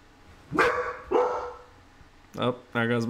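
A dog barks at home in four sharp, loud barks, two close together, a pause, then two more, with a voice faintly present.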